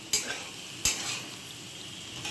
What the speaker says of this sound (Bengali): কড়াইতে গাজর, বিনস, ক্যাপসিকাম, পেঁয়াজ কুচি আর রসুন কুচি দিয়ে দিয়েছি।